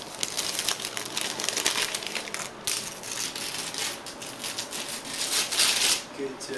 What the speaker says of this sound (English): Take the paper off.